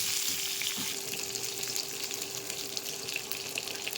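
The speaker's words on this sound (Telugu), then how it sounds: "నెక్స్ట్ ఉసిరికాయలు వేయించుకోవాలన్నమాట." Amla gooseberries fry in a pan with salt and turmeric, making a quiet, even sizzle and crackle with light stirring and a faint steady hum underneath, and no voices.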